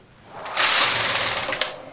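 A domestic knitting machine, set on tension 2 with main bed and ribber, knits two plain rows: a loud, steady mechanical whirring rush of the carriage sweeping across, rising after a quiet start and ending with a faint clack.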